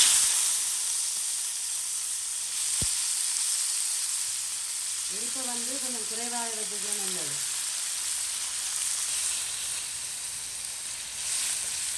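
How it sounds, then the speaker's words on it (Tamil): Tomatoes frying in hot oil in a pan for a semolina and potato breakfast dish, giving a steady broadband sizzle throughout with a brief voiced sound in the middle. "எண்ணெய் கொதிச்சிட்டுது இப்போ தக்காளியும் முதல் போடுவோம்"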